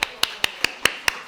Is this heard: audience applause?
yes